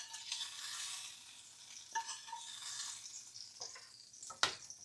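Braised beef sauce with pearl onions simmers and bubbles softly in a pot, with quiet sizzling, a few light stirring scrapes and clinks, faint and close with no talking.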